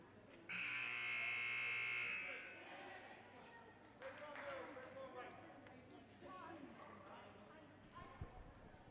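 A basketball game buzzer blares loudly for about two seconds during a varsity girls' game at Fryeburg Academy, followed by gym echoes, shoe squeaks and a distant crowd murmur.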